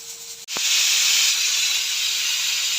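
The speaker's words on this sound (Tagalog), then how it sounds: "pinapakuloan ko na pressure cooker para mabilis lumambot" A pressure cooker boiling pork for nilaga lets out a sudden loud, continuous steam hiss after a brief sharp click, staying strong and close to the end.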